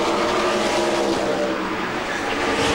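IndyCar race cars roar continuously around the track at the 1997 Walt Disney Indy 200, a dense, steady engine drone heard from a distance with no pause.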